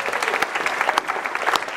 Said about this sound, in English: Yeah, you can all clap.